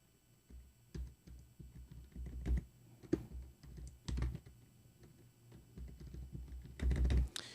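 Password being typed on a computer keyboard, a quiet run of soft key taps and clicks in irregular bursts, close and faint with no talking.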